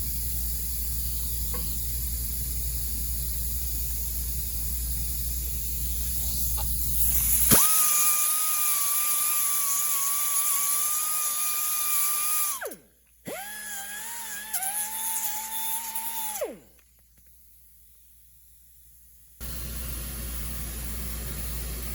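A power tool whines steadily while cleaning rusty steel leaf spring plates from a Jetta suspension, starting after a stretch of low hum and stopping, restarting at a lower pitch, then cutting off again, loud and close with no talking.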